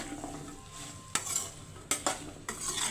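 Sliced okra and peanuts frying in a pan, a steady soft sizzle broken by three sharp spatula scrapes against the metal.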